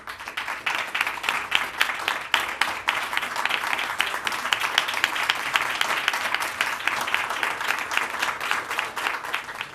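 Crowd applause at a Barnstable event honoring a retiring math teacher, dense steady clapping from many hands that holds at an even level throughout, with no speech over it.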